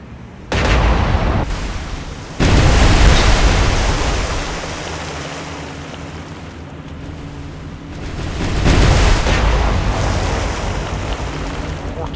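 Naval guns fire in the War on the Sea game during a hunt for the battleship Haruna, with heavy booming blasts followed by a long rumbling roar over a broad noisy wash.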